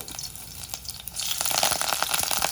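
Mustard seeds, garlic and curry leaves sizzle in a spoonful or two of tempering oil, a soft hiss that swells louder halfway through with scattered crackling pops.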